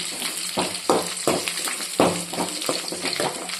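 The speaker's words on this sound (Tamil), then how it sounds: "இப்போது நாலு பச்சை மிளகாய் சேர்த்துக்குவோம் பச்சை மிளகாய் நல்லா கலர் மாதிரி வரணும் அது வரைக்கும் நம்ம வதக்கிக்குவோம்" Green chillies sauté in hot oil with onion, garlic and curry leaves for a fish curry, giving a steady close sizzle broken by several scraping stirring bursts from a utensil in the pan.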